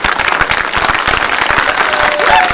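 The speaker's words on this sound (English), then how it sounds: "One more round of applause, please, DJ Money" A crowd gives a round of applause: many hands clap together in a loud, dense patter that runs without a break and grows a little louder near the end.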